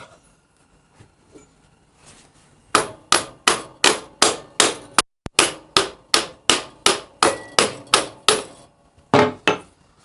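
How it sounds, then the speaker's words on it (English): A rawhide mallet strikes metal parts while a Harley-Davidson VL front end is mocked up, landing about fifteen loud, evenly spaced blows close by, with a brief pause midway and two more hits at the end. "I need to get my newest rawhide mallet."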